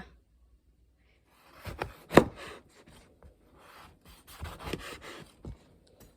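A knife cuts a hard-skinned ingredient into chunks on a board for a Thai dessert, with a few sharp, close knocks and scraping cuts spread across quiet pauses, one especially crisp thud standing out.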